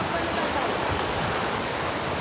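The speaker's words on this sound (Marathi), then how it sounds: "लय वाहतं पाणी" A river in flood after torrential rain, swollen water rushing fast in a dense, continuous roar without letup, loud and close with no distinct voices.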